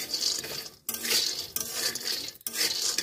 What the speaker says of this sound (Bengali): এখন আমি চীনাবাদামটা ভেজে নেব কড়াইতে।